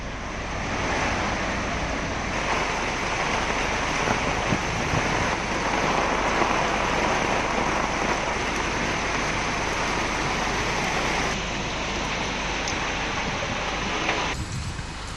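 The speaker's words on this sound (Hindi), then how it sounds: "यहाँ पर तेज हवाओं के साथ बारिश हुई है" Heavy rain driven by strong winds in Haryana, a dense, loud, steady roar of rainfall and gusting wind without let-up for the whole stretch.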